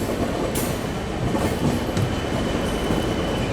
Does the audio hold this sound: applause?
no